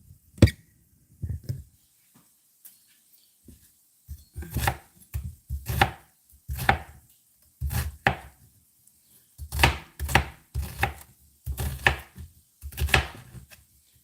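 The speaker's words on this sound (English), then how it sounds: "We're going to cut up this other onion here." An onion is chopped on a cutting board in a home kitchen, with irregular bursts of quick knife strikes separated by brief pauses, close and clear, with no talking.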